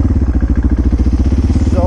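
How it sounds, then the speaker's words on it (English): A Suzuki DR650 single-cylinder motorcycle engine fitted with a performance fuel and air setup idles smoothly, with a loud, close, even thumping pulse throughout. "bike just idling so smoothly"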